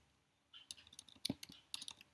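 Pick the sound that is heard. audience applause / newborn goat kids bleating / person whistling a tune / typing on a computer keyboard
typing on a computer keyboard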